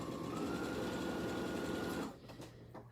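A domestic sewing machine runs steadily at speed while jelly roll fabric strips are chain pieced, a close, continuous whirring hum that stops abruptly after about two seconds, followed by faint handling sounds.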